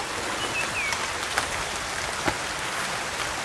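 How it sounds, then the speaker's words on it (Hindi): Steady rain falls at a scenic outdoor spot, a dense even hiss with a couple of louder drop hits and no talking. "देखिए बारिश भी शुरू हो गई है"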